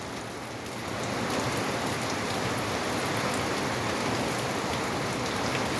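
Heavy rain pours steadily and densely on surfaces, a loud, even roar that swells within the first second and then holds without a break.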